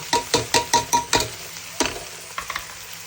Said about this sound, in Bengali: সামান্য ভেজে নেব 2-3 মিনিট